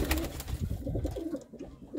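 A spotted female pigeon coos in low, throaty murmurs that roll on steadily for about two seconds and fade slightly toward the end, heard close up.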